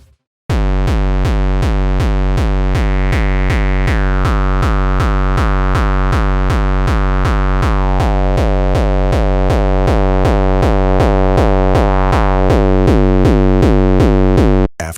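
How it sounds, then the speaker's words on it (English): A distorted gabber kick drum built in Serum 2, hammering in a steady fast four-on-the-floor pulse for the whole stretch, loud and harsh with a rough, clipped, tonal body and no voice over it. "At this point, the kick starts getting that rough Gabber texture."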